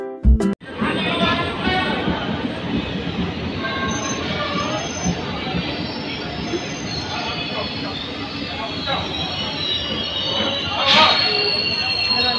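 The Kalindi Express, seen from a first-class AC coach, rumbles steadily along the rails with continuous wheel noise and occasional high squeals, loud and close throughout.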